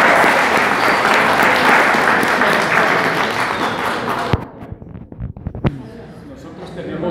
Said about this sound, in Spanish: Un aplauso para Jorge Rojas,